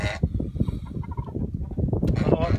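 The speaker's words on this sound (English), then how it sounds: "The chickens are coming in here as usual." Backyard chickens coming into their coop for the evening give low, throaty clucks and soft gobbling calls close by, a busy overlapping chatter that runs throughout with a brighter squawk near the end.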